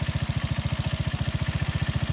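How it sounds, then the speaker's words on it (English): A Janus Halcyon 250 motorcycle fitted with a 28mm Nibbi carburetor idles steadily at about 1500 to 1600 RPM, a close, even low thumping pulse with no voices. "You want these to idle about 1500 to 1600 RPMs."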